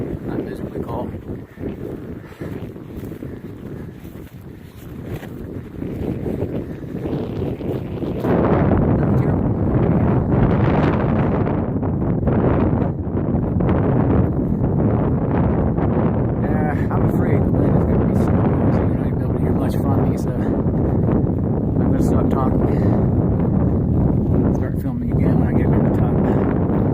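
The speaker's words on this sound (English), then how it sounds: "Breezy up here this morning." Strong wind roars across the open summit of Max Patch Mountain on a cold morning hike, a steady, loud buffeting that batters the microphone and swells after a quieter start, with someone talking at times.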